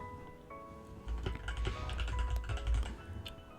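Computer keyboard keys tapped in a quick, uneven burst while working in a Notion timesheet page, close and fairly soft, with a brief pause before a denser run of clicks.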